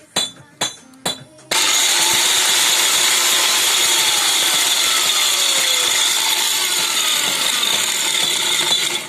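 A KB-1 electric coffee grinder grinds oak bark, starting with three short bursts and then running as a loud, continuous high whine that stays steady to the end.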